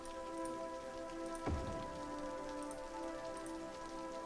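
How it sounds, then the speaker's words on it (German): Steady rain in the video game Cities: Skylines patters continuously against a surface, with a low droning tone underneath and one brief dull thump partway through. "Vor allem bei diesem Regen sieht man einfach gar nichts."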